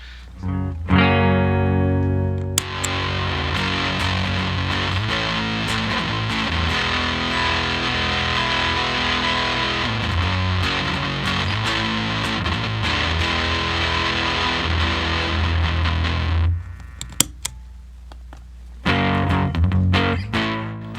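An electric guitar plays through a Behringer DM100 distortion pedal, its fuzzy, sustained chords ringing loud and close with no talking, cutting off briefly near the end before one last strum.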